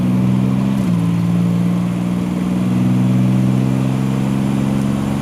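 A 1987 Buick Grand National with a stroker turbocharged V6 and 4-speed automatic pulls hard, its loud engine drone stepping down briefly at a gear shift and then climbing again, close and steady throughout.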